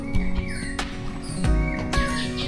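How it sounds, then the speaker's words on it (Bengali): Many birds chirping and calling around an eco resort near Bagnan outside Kolkata, a busy mix of clear close whistles and tweets overlapping, with some low rumbling noise underneath. "পাখি ডাকছে, প্রচুর পাখি আছে এখানে"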